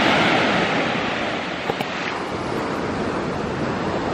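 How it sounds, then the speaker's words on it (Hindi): High ocean waves break at Anjuna beach in Goa in a steady, loud wash of surf mixed with wind rumble against the microphone, with no voices. "लहरें काफ़ी ऊंची उठ रही हैं"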